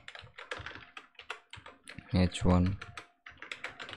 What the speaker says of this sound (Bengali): ধরুন আমি এখানে কিছু লেখা দিচ্ছি